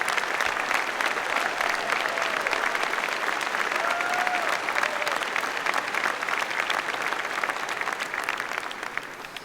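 A large audience at a university commencement ceremony applauds the graduates' support systems. The clapping is loud and continuous and lasts the whole stretch, with faint cheers rising through it.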